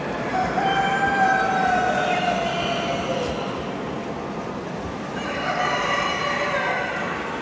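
Houdan chickens at a poultry exhibition in Limoges, a dense, loud crowing and clucking din from many birds in a busy hall, continuous throughout with no talk.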